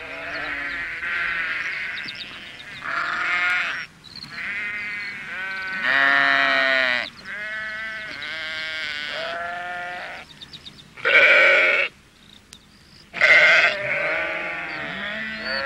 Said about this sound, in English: he saw the sheep in the garden and decided to help.